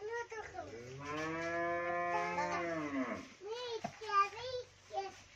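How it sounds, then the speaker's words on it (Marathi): A cow moos in a long, drawn-out low call, followed by a few shorter calls close by in a cattle shed. "ती गाय मारीन तुला बर का वैशू."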